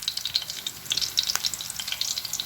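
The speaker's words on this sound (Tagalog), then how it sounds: "iuurong natin si sibuyas at bawang" Onion and garlic sizzle in hot oil in a pan as they are sautéed for chicken adobo, a steady close crackle and hiss with soft stirring, no voices.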